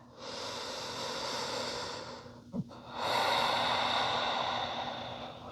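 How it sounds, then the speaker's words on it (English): Deep breathing in a yoga forward fold: a long, audible exhale followed by a brief pause and a small click, then another long, airy breath, close and steady. "As you exhale, you fold. Nice deep breaths. Inhale. Exhale."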